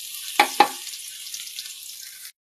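Garlic frying in a little oil for bangus steak, two sharp clicks or taps up front, then a soft steady sizzle that cuts off abruptly.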